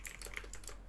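Rapid keystrokes on a computer keyboard while entering code, a steady run of close, crisp clicks with no voice over them.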